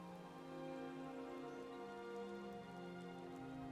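Steady rain falls in the video game Skyrim, a soft continuous hiss layered under sustained tonal background sound for the whole stretch.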